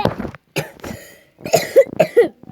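A few loud coughs up close, in short bursts separated by brief pauses, with a throat-clearing quality.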